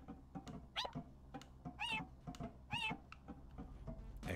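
Cat meows from the video game Sludge Life, several drawn-out cries at irregular intervals over a steady low in-game background hum, fairly close and moderately loud.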